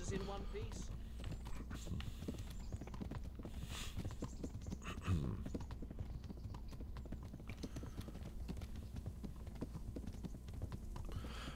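Horse hooves clip-clopping at a steady walking pace in an Italian-played historical strategy game of dynasties and kingdoms, faint and continuous under a man's occasional speech.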